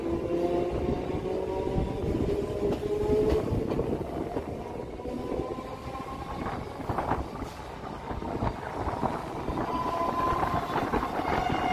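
A train on the railway line near the Bondel Gate flyover on the Sealdah bypass route, heard as a steady close rumble with sustained droning engine tones and occasional clicks throughout.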